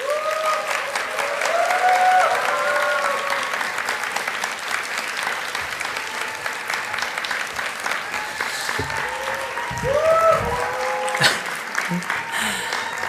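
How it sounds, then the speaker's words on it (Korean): Warm, sustained applause from a church youth congregation at a Sunday worship service, dense clapping filling the room for the whole stretch, swelling slightly near the end, with scattered voices and cheers mixed in. "우리 따뜻하게 박수로 맞이해 주시면 감사하겠습니다"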